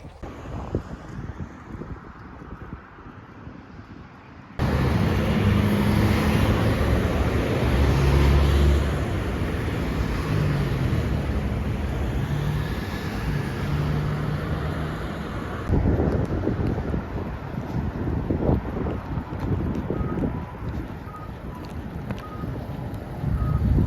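Gusty wind buffets the microphone outdoors in Canada with loud, rumbling low-end roar that surges and drops, continuing for a long stretch without speech.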